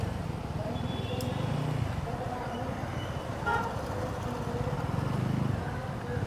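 Heavy road traffic in a crowded Sri Lankan town street, with steady engine rumble and a car horn tooting briefly in the middle, the traffic noise continuous and fairly close throughout.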